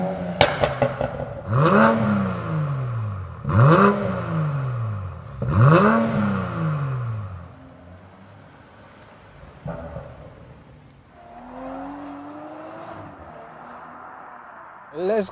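A 400 bhp Evolve-tuned Toyota Supra revs hard three times in quick succession, each blip climbing and falling back, then settles into a lower, quieter engine note with a brief surge near the end.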